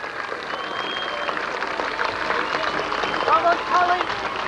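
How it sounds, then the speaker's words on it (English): Crowd cheering and clapping at the finish line of the 1985 Potteries Marathon in Stoke on Trent as a runner crosses, a steady dense roar of outdoor spectators that swells toward the end, with voices shouting in the mix. "A huge cheer for Colin as he crosses the finishing line."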